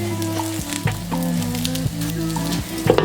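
A Chinese chive pocket frying in oil in a pan gives a close, continuous sizzle with crackles and a few tonal clatters from the pan throughout.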